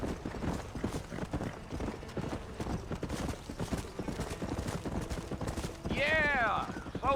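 A horse's hooves clip-clop in a steady galloping rhythm in the Western video game Red Dead Redemption, continuous and close, with a whinny near the end and voices talking over it.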